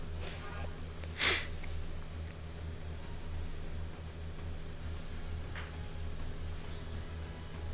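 A person with a runny nose gives one sharp, loud snort-like sniff early on, then a fainter sniff a few seconds later, both close to the mic over a quiet, steady background hum.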